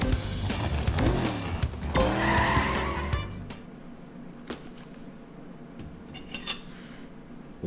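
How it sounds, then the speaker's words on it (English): Go-karts rev at the race start in Crash Team Racing Nitro-Fueled, with loud buzzing engine tones rising together for a few seconds before dropping away to quieter clatter. "start your engine."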